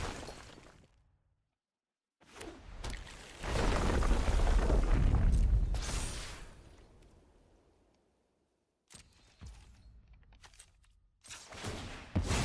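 A sweeper spell cast in the Magic: The Gathering video game erupts in a heavy booming blast that swells and fades over a few seconds, with sharper crackling and shattering hits before and after it.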